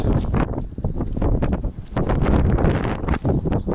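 Gusty wind buffeting an outdoor microphone near a parked truck outside a Lidl store in Sweden, a continuous loud rumble with surging, uneven gusts throughout and no voices.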